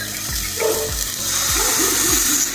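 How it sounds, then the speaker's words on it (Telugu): Water pours with a steady gushing splash into a kadai holding sugar on a lit stove to make syrup for shahi tukda, loud and close and continuing without pause. "ఒక 100 గ్రాములు పంచదార వేసుకుని 2 కప్పులు నీళ్ళు వేసుకోవాలి."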